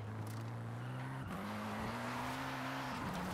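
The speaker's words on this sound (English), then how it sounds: "I'm initiating with the regular brake, and then if I'm losing stability, I just kind of tap the handbrake" Mitsubishi Lancer Evo drifting with the handbrake, steady engine drone with tire squeal and pitch shifts as the car slides, heard alone without talk.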